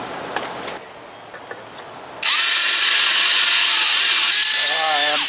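Drill whirring steadily at close range as it bores out a broken screw on a 1983 25 hp Evinrude outboard, starting abruptly after a few quiet seconds and running continuously to the end.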